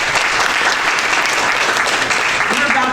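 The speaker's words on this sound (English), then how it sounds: "Give yourselves a round of applause." Audience applause at a 2019 candidates forum in Port Wentworth: a dense, steady wash of clapping from a crowd, loud and close, filling the whole stretch without a break.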